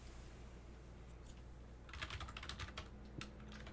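Keys typed on a Razer Ornata Chroma V2, an inexpensive hybrid membrane-mechanical keyboard, come as a quick burst of soft clicks over a low steady hum, then fall to sparse taps.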